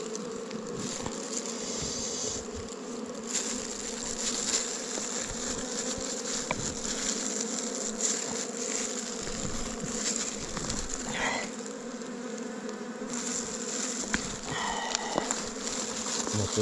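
Wild honey bees swarm and buzz around a smoked nest in a deep hollow, a dense continuous drone holding steady throughout, with no talk.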